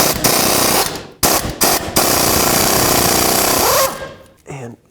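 12mm socket wrench removing a bolt on a 2001-07 Toyota Sequoia during a front lower control arm job, a loud close burst of rapid rattling ratchet clicks in several short runs, then a brief squeak and a knock.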